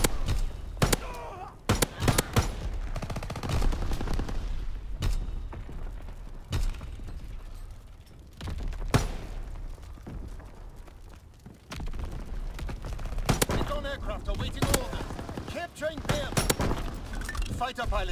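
Gunfire in a first-person shooter video game, with dense bursts of rapid automatic shots and single cracks throughout, under radio-style voice callouts.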